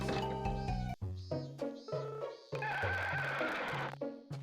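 Several horse whinnies and neighs in quick succession, loud and close, with a synthetic game-like quality and brief gaps between calls, from the farming game Harvest Moon: Sunshine Islands.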